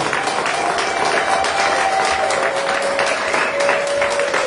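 Church congregation applauding during worship, a dense sustained clapping from many hands with a faint held tone underneath, loud and continuous.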